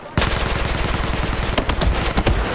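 Automatic weapons fire in the video game Battlefield 4 multiplayer, with rapid, dense bursts of shots rattling continuously and loudly with no pause.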